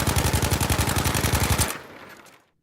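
A Sturmgewehr assault rifle fires at the shooting range in Battlefield V: one loud, rapid automatic burst of around fifteen evenly spaced shots, then a short fading echo.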